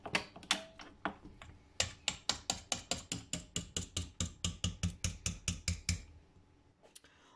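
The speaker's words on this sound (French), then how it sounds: "maintenant on va changer le fouet" Stand mixer whisk attachment being unclipped and swapped while making Greek kourabiedes Christmas cookies, a close, steady run of sharp mechanical clicks and ratcheting taps with no talking.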